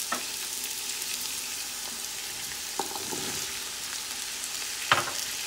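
Long green beans (bora) frying in a pot for chow mein: a steady, low background sizzle with a few scattered clinks and knocks of utensils.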